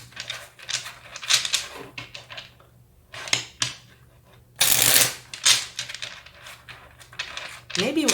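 Tarot cards are shuffled by hand in repeated bursts of riffling and soft slaps, close and crisp, with faint speech in between.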